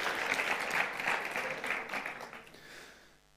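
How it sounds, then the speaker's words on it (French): Audience applause at a youth event in a hall, a steady burst of clapping from many hands that holds strong for a few seconds and then thins and fades away. "Je t'applaudis d'avance."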